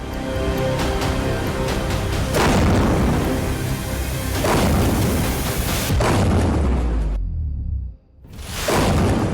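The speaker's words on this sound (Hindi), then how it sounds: "इस मिसाइल इंपैक्ट को देखिए" Heavy, continuous explosion roar from an Iranian missile striking the city of Haifa in northern Israel, with repeated deep booms and rushing blasts across the stretch and a brief drop in the noise near the end. No voices are heard.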